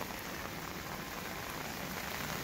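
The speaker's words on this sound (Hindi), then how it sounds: "बहुत दिनों के बाद बारिश हुई है आज, झमाझम मस्त बारिश।" Heavy rain pours down in Nainital, a steady hiss of drops striking surfaces that fills the whole stretch evenly, with no talking.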